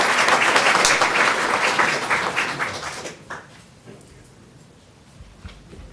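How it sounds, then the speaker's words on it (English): An audience at a mayor's award presentation gives a round of applause, dense clapping that thins after about three seconds into a few scattered claps before quieting. "Give him another round of applause."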